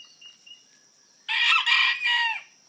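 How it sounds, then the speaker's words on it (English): A Serama rooster gives a short, high-pitched crow in three quick bursts after a faint moment of soft chirps, fairly close and clear. "Here's my purebred Serama Rooster."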